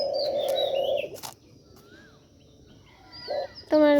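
Doves and other birds call nearby while feeding: a held tonal call, then scattered chirps and whistles separated by quiet gaps, ending in a louder burst.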